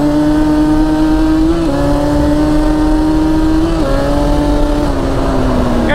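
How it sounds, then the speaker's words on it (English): An ATV engine revs hard in gear, winding out to its maximum with a loud, sustained high-pitched buzz that climbs in pitch, close by and with no talk over it. "If you're racing, you're gonna wind that gear out to the very end, just like this."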